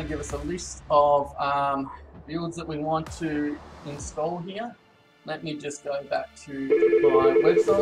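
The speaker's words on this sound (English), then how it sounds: "That's a phone call that can wait." A telephone rings as a steady, repeating electronic tone in the last second or so, with someone talking just before it and partly over it.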